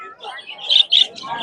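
A male turquoisine parrot at a weekly bird market gives a quick run of bright chirps and tweets, close and fairly loud, with a couple of sharper peaks and faint voices around it.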